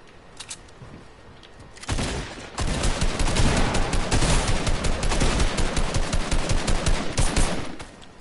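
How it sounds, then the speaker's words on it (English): Rapid, loud video game gunfire of sustained automatic bursts follows a few faint pops, continuing steadily for several seconds. "I'm literally shooting nothing."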